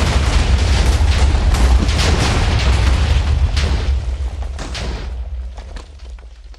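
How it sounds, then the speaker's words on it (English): A particle bomb detonating in the video game Alpha Factions, one loud close explosion with a heavy low boom and crackling burst that slowly fades into a rumbling tail. "That's the particle bomb."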